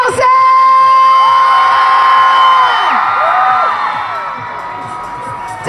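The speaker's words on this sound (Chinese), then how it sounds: "尖叫声！" An audience at an outdoor Christmas-city concert at a civic plaza in New Taipei screams and cheers in one sustained, loud roar with shrill whoops, slowly fading toward the end.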